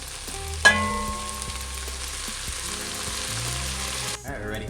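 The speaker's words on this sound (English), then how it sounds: "So I'll start with some red onion on medium-high heat and some olive oil. All right, now I'm gonna add some of this hot sauce." Red onion sizzles in olive oil over medium-high heat, with a sharp splash and hiss as hot sauce goes in and a loud, steady frying that stops abruptly.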